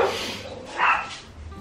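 Dogs barking downstairs in a house, a couple of muffled, distant barks and a yip over quiet room sound.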